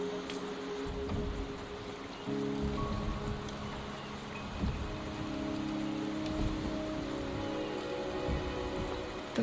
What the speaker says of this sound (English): The rain is subsiding,